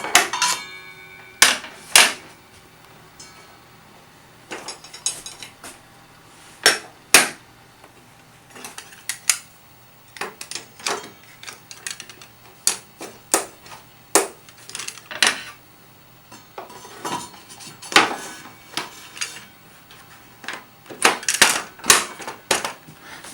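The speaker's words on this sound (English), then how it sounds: "Now to change between the riving knife and the blade guard, it's really simple as well." Riving knife and blade guard being swapped on a SawStop SSWC62 table saw, a long series of sharp metallic clicks, clacks and taps at irregular intervals, close and crisp with quiet gaps between and no talk.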